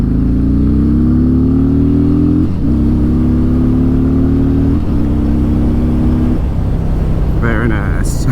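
A 2019 Harley-Davidson Road King Special 114 motorcycle pulls in second gear at about 2000 RPM, its loud, steady engine drone climbing in pitch with brief dips at each gear change, under light rider talk.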